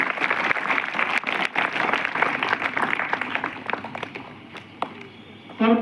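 An audience at a school Teacher's Day celebration claps steadily for about five seconds, a dense patter of hands fading before a voice begins speaking.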